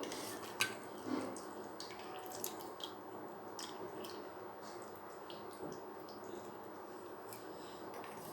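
Soaked soya chunks (meal maker) are squeezed by hand over a plate, giving soft squelches and small drips of water, with a few sharper squishes early on and a quiet, wet texture after.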